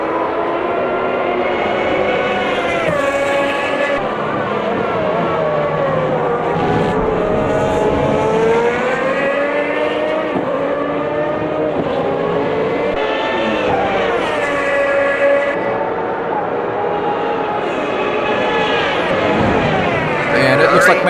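Formula 1 race car engines roar and rise in pitch in the racing game Automobilista 2, HiTech Gen 1 cars at Interlagos. Several cars are sustained and loud, with a voice talking over them.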